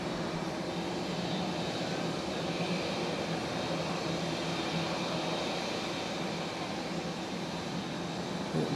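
Continuous broad jet roar of a Hong Kong Airlines airliner landing at Fukuoka International Airport, heard from a distance as a steady, even rumble with no talking.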